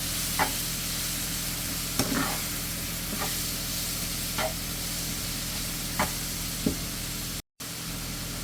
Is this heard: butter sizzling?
yes